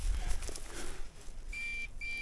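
A metal detector gives two steady electronic beeps near the end, the first longer than the second, over faint rustling and handling noise.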